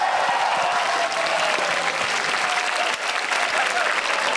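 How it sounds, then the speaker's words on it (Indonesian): A studio audience at a televised Indonesian stand-up comedy competition applauds a comedian, steady, dense clapping filling the whole stretch with a faint murmur of the crowd beneath. "Beri tepuk tangan sekali lagi untuk Gautama."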